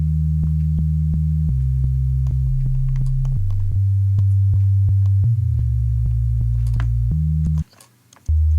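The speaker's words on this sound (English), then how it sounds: "So now we have 2 sine waves." Two sine-wave oscillators in FL Studio play a deep sub-bass line, smooth pure tones stepping between sustained pitches with faint clicks at each note change.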